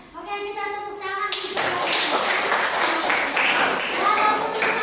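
A classroom of students claps together: after a brief voice at the start, a burst of hand clapping rises and continues steadily, close and fairly loud.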